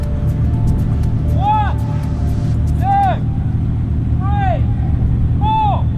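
A McLaren and a Ferrari, both rear-wheel drive, sit at a race start line with a steady, loud engine drone throughout. Brief high chirps cut in on top of the drone while a voice counts aloud.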